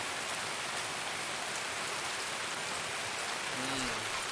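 Steady rain pours in the Escape from Tarkov video game, a dense continuous hiss of falling drops with a faint tonal blip near the end.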